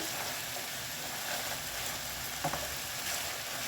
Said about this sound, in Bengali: চিকেন ভাজা হচ্ছে